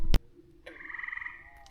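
Frogs croak at night along the Appalachian Trail, a single nearby trilling call after a sharp knock, with faint background noise.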